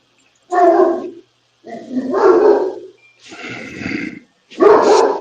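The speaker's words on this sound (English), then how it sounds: "These dogs here." Dogs bark in four long, loud, close outbursts separated by short pauses, each bark rough and sustained with no other sound between them.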